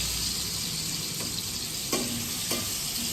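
Soybean and potato fry in a pan, giving a steady close sizzle with a few soft clinks of stirring, heard alone without talk.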